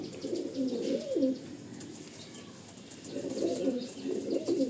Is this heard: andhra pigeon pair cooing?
yes